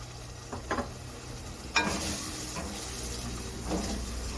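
Water goes into a hot cooking pot of dal over a low flame, giving soft splashes and a continuous sizzling hiss, with a few clinks and stirring sounds.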